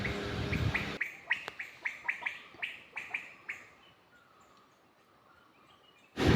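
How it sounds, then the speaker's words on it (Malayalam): A Malabar giant squirrel calls in a forest with a rapid series of about a dozen sharp, chirping notes. They are fairly close, clear and alone, and then fade into quiet ambience. "അത് മലയെണ്ണാൻ ചിലയ്ക്കുന്നതാണ്"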